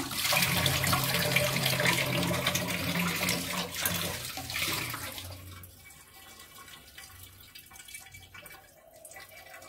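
Fish pieces are rinsed under a running kitchen tap, a loud, steady gush of water for about five seconds that then drops to a softer trickle and splashing.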